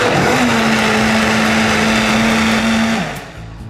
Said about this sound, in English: Okay, lid on and blend.